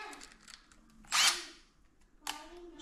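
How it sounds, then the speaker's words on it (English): A screwdriver backing screws out of the front wheel of a Crazy Cart, a brief whirring buzz with light clicks and ticks of metal parts around it, close up and without speech. "First of all, you gotta take these screws off, guys."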